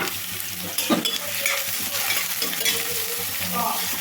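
Chopped onion and a green chili fry in hot oil, giving a steady close sizzle with stirring scrapes throughout.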